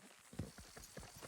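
Horse hooves clip-clop in Red Dead Redemption 2, a faint, quick run of soft thuds that sounds like several horses walking, with no talk.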